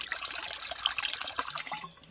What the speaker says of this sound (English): I'm going to fill it up with water so that it's not touching the eggs